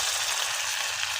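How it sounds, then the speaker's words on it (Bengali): Onions frying in oil for a dried fish (shutki) dish, giving a close, continuous crackling sizzle at a steady level throughout, with no voices. "পেঁয়াজগুলো সাইড করে রেখে ভেজে নিচ্ছি"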